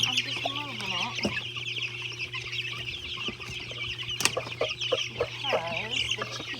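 Growing young chickens cluck and chirp continuously close by, with overlapping soft calls and a steady low hum underneath.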